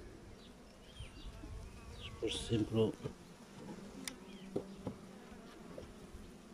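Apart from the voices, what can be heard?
honeybees buzzing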